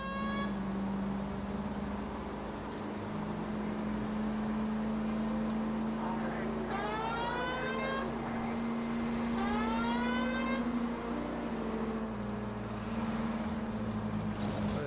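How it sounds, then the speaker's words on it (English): A labouring car engine in the 1940s Los Angeles of L.A. Noire drones steadily close by, with a police siren wailing and rising over it partway through. "This engine sounds like it's really struggling."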